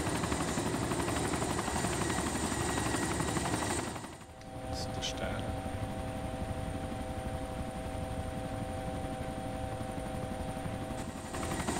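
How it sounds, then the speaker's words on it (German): A helicopter flies in the DayZ survival game, a continuous loud rotor thrum that dips briefly and then carries on steadily to the end of the clip. "Das ist ein Flieger."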